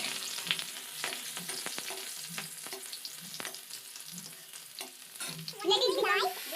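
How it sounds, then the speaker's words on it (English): Bhujiya frying in a pan and stirred with a ladle, with a steady crackling sizzle and rhythmic scraping strokes repeating about every second, growing louder and busier near the end. "I am stirring the bhujiya by the help of ladle"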